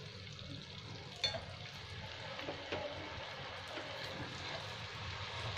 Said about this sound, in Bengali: এবার আমি চিকেনগুলো সব দিয়ে দিলাম